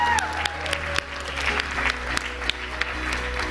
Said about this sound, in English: A big round of applause for Sam.